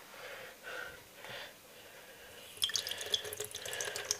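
A small splash of water poured into a dish while cooking, a soft trickle and dripping that picks up midway and continues close and fairly quiet to the end.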